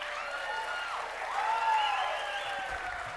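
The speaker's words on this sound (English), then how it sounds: "give her a big round of applause." Audience at a grant winners event clapping for a speaker, a moderate, steady ripple of applause that swells slightly midway, heard at a distance across the room.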